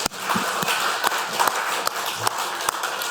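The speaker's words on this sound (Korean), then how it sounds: "하나님 앞에 영광의 박수 한번 돌리는 겁니다" A church congregation at Sunday worship claps together, a steady wash of hands mixed with sharper individual claps that stand out close by, continuing evenly for a few seconds without speech.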